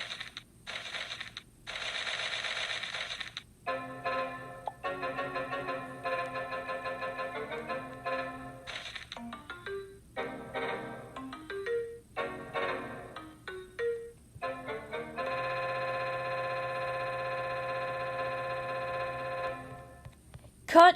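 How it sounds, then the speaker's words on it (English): Windows XP system sounds play in a rapid sequence of chimes, dings and tonal jingles over the 20th Century Fox theme, bright electronic tones with short gaps, ending in a long sustained sound. "why are the sounds of Windows XP like covering the 20th Century Fox theme?"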